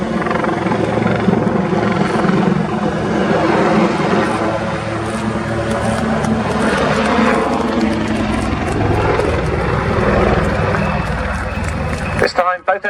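Display jets manoeuvring at the RAF Cosford airshow, a loud continuous roar of engine noise sustained for most of the stretch, with a commentator talking over it before it cuts off abruptly.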